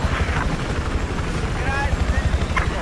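Battlefield 4 helicopter in gameplay: a continuous low rotor drone with engine rumble, close and steady, while players chatter over it.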